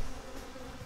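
Honey bees buzz steadily around an open hive in a defensive colony, a dense, close, continuous drone lasting under a second with no voices.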